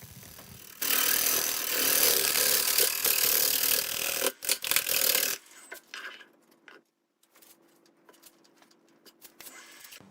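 A carbide burr grinds against a very hard material in a loud, harsh, continuous rasp for several seconds, then breaks off into a few short bursts and fades into quieter scraping.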